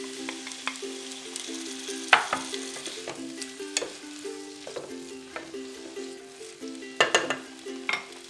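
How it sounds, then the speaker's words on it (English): Chickpeas being stirred in a one-pot couscous meal, with a soft steady sizzle under repeated clinks and scrapes of a utensil against the pot, close and fairly quiet. "We're going to go in with our chickpeas now."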